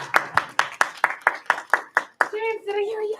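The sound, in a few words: children clapping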